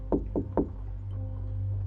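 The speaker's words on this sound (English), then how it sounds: "I had been asleep for maybe an hour when I heard the knock. 3 quick taps." Three quick, soft knocks on a hotel door, evenly spaced and close, are followed by a low steady hum.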